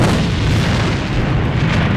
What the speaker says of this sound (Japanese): 手榴弾を使うぞ。